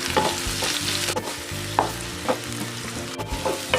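Chopped onions hit hot oil in a pan while bitter gourd fry is cooked, a loud close sizzle with a crisp burst at the start, broken by sharp clacks and scrapes of stirring, no speech.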